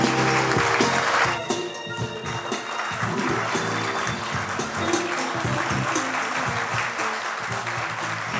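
An audience applauds at an award ceremony for a military affairs website's milestone event, steady, dense clapping from a crowd lasting several seconds, with a brief voice near the start.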